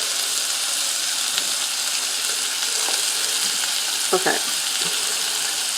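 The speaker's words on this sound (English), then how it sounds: "Get that bacon in there" Bacon frying in a skillet gives a steady, loud, dense sizzle with faint crackles throughout, and a brief rustle near the end as it is handled; one short word is spoken.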